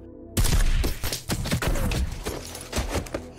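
Gunfight from an action film with a Turkish special forces unit battling heavily armed terrorists: dense, loud bursts of overlapping gunfire and impacts, rapid and irregular, filling the clip after a brief quiet start.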